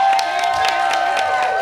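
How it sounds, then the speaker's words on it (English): An audience at a women's justice event breaks into applause and cheering, a short dense burst of claps mixed with crowd voices and whoops. "give Hazel Edney the most rousing round of applause"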